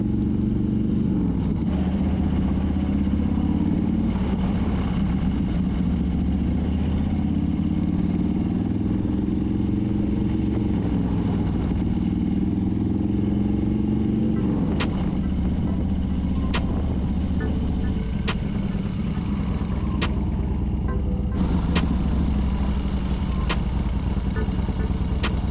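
Harley-Davidson Road King motorcycle riding through Chinatown in Washington, D.C., a steady, close engine rumble with shifting throttle and wind noise throughout, plus scattered light clicks toward the end.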